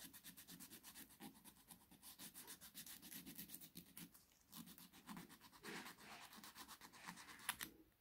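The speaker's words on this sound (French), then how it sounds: "je prends soit une ponceuse, soit un petit bout de lime et je gratte l'intérieur" Quiet, rapid back-and-forth scraping and rasping of a small nail file worked in quick rhythmic strokes inside an artificial nail tip, with no talking.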